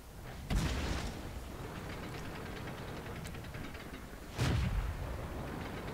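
A tank gun in a video game fires two heavy, booming shots several seconds apart, each with a sharp blast and a rolling low tail, over a continuous quieter background rumble.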